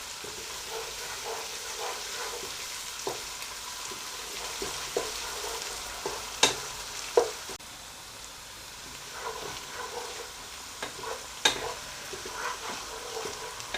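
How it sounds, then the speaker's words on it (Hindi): Mashed dal sizzles steadily in a pan for a dhaba-style dal mash fry, with a constant frying hiss broken by occasional stirring scrapes and clinks of a utensil. "इसे मज़ीद 3 से 4 मिनट के लिए फ्राई करेंगे।"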